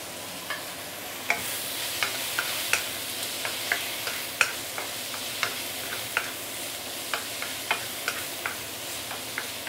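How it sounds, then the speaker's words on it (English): Cooked roast pork and Chinese leek tossed in a hot wok with Shao Hsing wine and white pepper, a steady sizzle broken by regular sharp clinks of the spatula against the pan, close and without talk. "The roast pork is already cooked and the Chinese leek, very quick stir fry, good enough."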